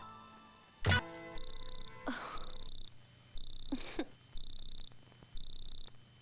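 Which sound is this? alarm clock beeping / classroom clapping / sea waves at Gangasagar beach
alarm clock beeping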